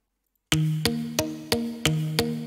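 Muted guitar sample with added effects plays a steady run of six plucked notes after a short silence, each a sharp attack with a brief decaying tone, evenly spaced and clear with no other sound.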